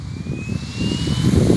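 Goosky E2 UH-1Y Venom 1:35 RC helicopter spooling up on soft ground, a steady motor whine that rises in pitch over a low rotor rumble, growing louder through the clip.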